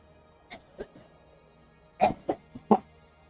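Someone coughs several times in short, harsh bursts, a couple of quieter ones first, then a louder cluster of three or four close together.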